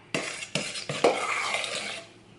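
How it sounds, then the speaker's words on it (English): A spoon stirs pineapple into a pistachio jello mixture for an old-fashioned jellied salad: three quick scraping clinks against the bowl, then a continuous close stirring swish that fades near the end. "give that a good stir until everything is thoroughly mixed up"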